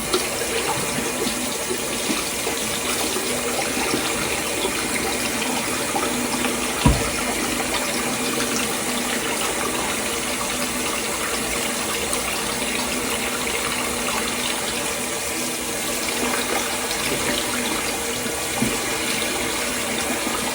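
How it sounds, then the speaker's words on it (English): A makeup sponge is washed under a running tap, with loud, constant water gushing nearby and one soft knock partway through. "the last thing I have to wash is my sponge"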